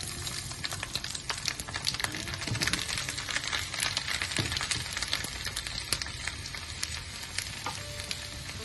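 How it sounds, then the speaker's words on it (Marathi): Fine mustard seeds spluttering and popping in hot oil while a Mangalorean sweet lime pickle is cooked, a steady close crackle of dense sharp pops over continuous frying hiss. "आतां सासाव बरें फुटून येता"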